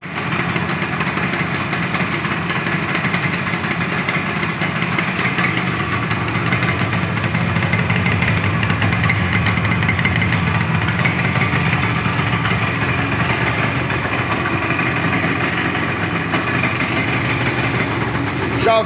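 A 1974 Yamaha RD 350 motorcycle engine idles close by after an ignition repair, a loud, steady, buzzing two-stroke rattle that runs evenly with no pauses.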